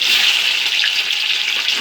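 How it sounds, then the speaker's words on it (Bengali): Pieces of rohu fish frying in hot oil for a Bengali shorshe rui dish, a loud, continuous close sizzle and hiss with no talking. "তেলটা গরম হয়ে গেছে, এই সময় একে একে আমি মাছগুলোকে দিয়ে দেব।"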